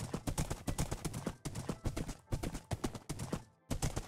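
Horse hooves clip-clopping in Minecraft Bedrock, a rapid steady run of hoofbeats with a couple of brief gaps, close and clear with no talking.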